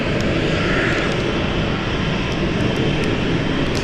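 Aircraft engine roaring steadily and loud at London City Airport on runway 27, a continuous broadband drone with no talk.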